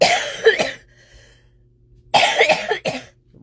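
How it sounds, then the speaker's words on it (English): Two separate bursts of harsh coughing, each a quick pair of coughs, with a quiet pause between them. "Why do I have this silly cough and cold?"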